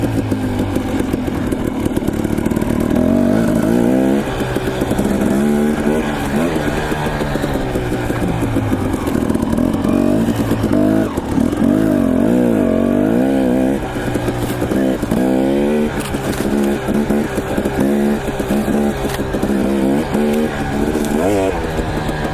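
A dirt bike rides a hillside single-track trail near Cambridge, Idaho, its engine droning steadily and loudly throughout with rising and falling revs as the rider works down the slope.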